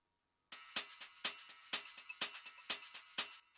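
Bright, clicky clave hits synthesized in Serum, in a steady rhythmic pattern, each followed by softer delay repeats, fairly quiet with no other sounds.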